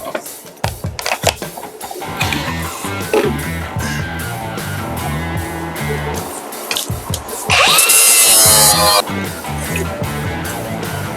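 An angle grinder cleans up a steel drop shackle for a 1980 Chevrolet C10 pickup, with intermittent close grinding bursts and one sustained loud stretch near the end, among clattering handling noise in a garage.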